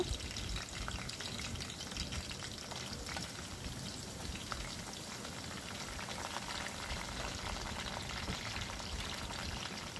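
Onions sizzling in hot oil in a pan while cooking mutton keema, a steady, soft crackling hiss that continues throughout without interruption.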